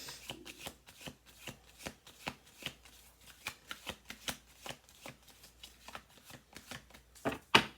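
Goddess oracle cards are shuffled by hand in a quiet room, producing a fast run of soft, crisp riffling flicks in an uneven rhythm that end in a louder final snap.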